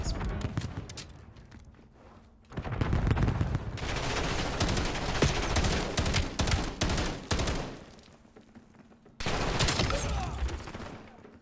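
Dense automatic gunfire from the Black Ops 7 video game comes in loud sustained bursts, with a brief lull and then another sharp volley, and a voice faintly under the shooting.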